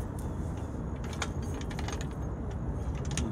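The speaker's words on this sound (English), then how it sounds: "you want to use your jack to lift the car" A car jack is worked to raise a car for rear control arm repairs, giving a run of quick metallic ratcheting clicks over steady background noise.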